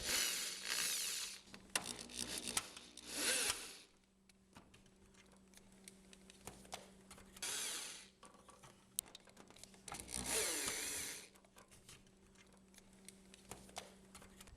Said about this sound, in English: I'll start by removing bolts from the bottom of the hinge and then work my way up.